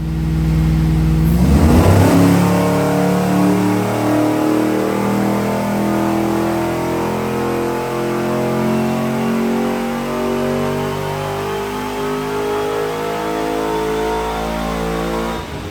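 A cammed Chevrolet Trailblazer SS engine on a dyno, roaring up from idle and held at wide open throttle in a loud, sustained, rising rev that barely drops for about fourteen seconds, with no voices.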